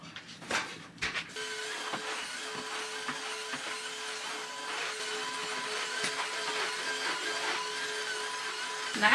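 A Tineco iFLOOR 3 cordless floor cleaner runs steadily across a bedroom floor, giving a continuous motor whine with a few clicks and knocks at the start, heard up close with no talking.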